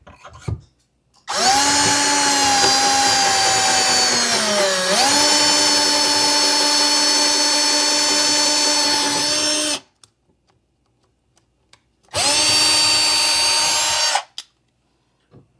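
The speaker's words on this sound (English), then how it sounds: "Now we'll just drill the other side, and we should be good to go." A power drill whines loudly at high speed for several seconds while drilling cabinet wood, its pitch dipping briefly under load, then stops; after a pause, a second shorter burst follows.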